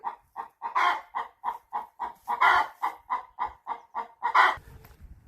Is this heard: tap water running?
no